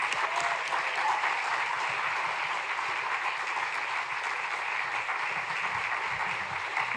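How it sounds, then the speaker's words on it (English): A town hall audience at Grinnell College in Iowa applauds Michael Moore with sustained, even clapping that holds steady and full for several seconds, with no voices standing out. "Let's keep clapping for Michael Moore"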